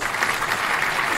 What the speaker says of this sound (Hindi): बस तालियां बहुत होगी।